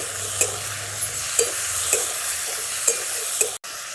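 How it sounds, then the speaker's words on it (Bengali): Cut new potatoes fry in mustard oil with a steady close sizzle, marked by light ticks of stirring every half second or so and a brief cut-out near the end. "সেই কাটা আলুগুলোকে ভেজে নেব।"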